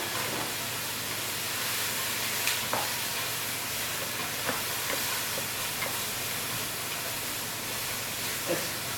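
Chopped onion sautéing in olive oil in a pan beside a running kitchen extractor hood gives a steady, dense sizzling hiss, with faint scattered pops throughout and no voices.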